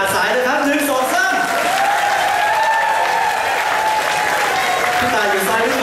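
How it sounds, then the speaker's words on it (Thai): Concert audience applauding steadily and loudly throughout, a dense continuous clatter of many hands with crowd voices and musical tones mixed in underneath. "ถ้าอยากแล้วเสียงปรบมือมาอย่าได้ขาดสายนะครับ"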